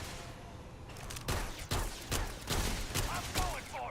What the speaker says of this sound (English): And now he's firing.